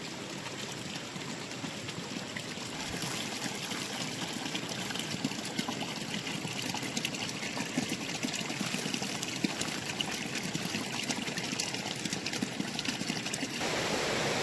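Water released in a fishing ritual in Mon District, Nagaland, flows back along its channel as a steady rushing, trickling stream, continuous and moderately near.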